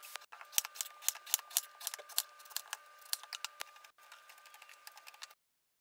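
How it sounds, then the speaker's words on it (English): A knife slicing an eggplant into rounds on a board, a rapid series of crisp cuts and taps, fairly faint and close, before a pause and abrupt silence at the end. "We're gonna just cut them into some rounds"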